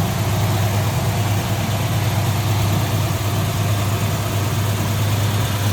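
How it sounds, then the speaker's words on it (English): The 351 V8 engine of a 1971 Ford LTD Convertible idles smoothly and steadily nearby, a low even rumble with no revving. "See it very smooth running 351 underneath there."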